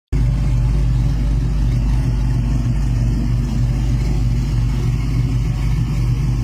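A factory two-wheel-drive SUV with an automatic transmission and a Roadster Shop chassis runs with a loud, steady, deep engine rumble that starts abruptly and holds constant close by, with no talking.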